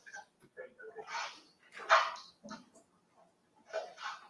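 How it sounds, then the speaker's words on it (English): A dog barks in short, sharp bursts during a sheriff's office approach to a house, fairly faint and off to one side, with gaps of quiet between the barks and voices nearby. "I got a dog."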